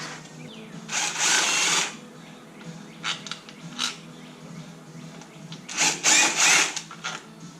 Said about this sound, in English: Let's go ahead and get a drill and get them all removed.